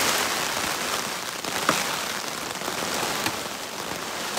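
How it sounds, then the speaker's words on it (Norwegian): A rain shower patters steadily on a tarp outdoors during a wilderness expedition, a dense, even hiss of drops close by with a few slightly louder taps, and no voices. "Regner det."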